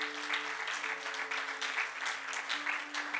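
Church congregation applauding the Lord during a French-language sermon, steady sustained clapping from many hands filling the room, with a low tonal hum underneath.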